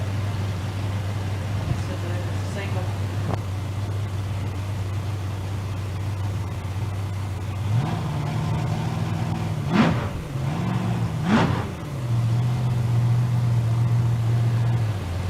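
Chevy Beretta drag race car at an outlaw series event in London, engine idling with a low steady drone, then two sharp revving bursts before settling into a higher, steady hum, heard close and loud.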